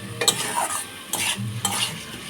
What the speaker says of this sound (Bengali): এরপর আমি এই সবগুলোকে খুব ভালো করে আলু আর টমেটোর সঙ্গে কষিয়ে নেব